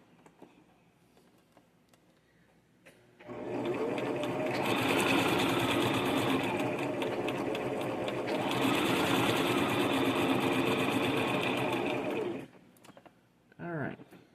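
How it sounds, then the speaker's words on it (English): A sewing machine stitches a French seam in one long steady run of close, even mechanical whirring, starting abruptly and stopping just as suddenly, with quiet room sounds before and after. "So you want to sew your seam"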